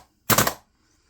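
A WE G36 gas blowback airsoft rifle firing on full auto gives one short, sharp burst of rapid cycling, close and loud, followed by quiet.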